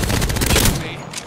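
Rapid automatic gunfire in the video game Apex Legends, a dense burst of shots for about a second that then cuts off.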